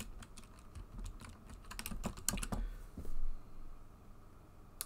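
Rapid clattering keystrokes on a computer keyboard, in irregular bursts with a denser flurry in the middle, heard close and fairly quiet with no talking.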